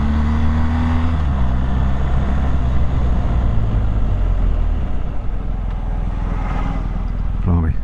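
Heard from the rider's position on a BMW GS motorcycle out on the road, steady close engine drone and wind rush with revs easing off midway, then a short burst of throttle near the end.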